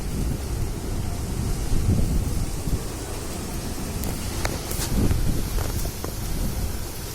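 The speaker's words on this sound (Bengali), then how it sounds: "দেখো বৃষ্টি পড়ছে" Steady rain hissing through gusty storm wind, with a low rumbling undertone and occasional brighter patters; no voices.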